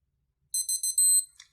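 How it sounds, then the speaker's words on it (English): A Casio RFT-100 watch sounds its alert: four quick, bright, high beeps and then a longer tone, faint and close, in otherwise silent surroundings. "this watch will vibrate and also make a sound to let you know you should be in the cones within the time"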